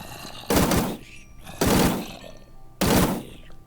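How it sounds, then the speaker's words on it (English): Machine gun from the PVPGuns plugin in Minecraft, fired in three loud bursts about a second apart, each a sharp cracking volley that trails off before the next. "Pretty nice machine gun."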